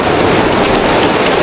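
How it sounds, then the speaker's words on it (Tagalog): Heavy rain pours steadily and loudly onto a small hut's roof and the ground around it, a dense, unbroken hiss with no talking. "Ang lakas na ulan."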